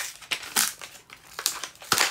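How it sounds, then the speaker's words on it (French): Pens and pencils go into a small pencil case with a string of close, crisp rustling and clicking bursts in an irregular rhythm, and no one speaks. "là je remplis sa petite trousse, regardez, c'est trop chou, les stylos ils sont trop choux."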